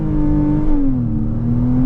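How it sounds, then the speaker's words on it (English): A Porsche 987.2 Cayman S with PDK gearbox pulls hard under launch control, a loud, close engine note holding steady, then dipping slightly in pitch, with no talking. "brake pedal to the floor, flat on the accelerator, launch control."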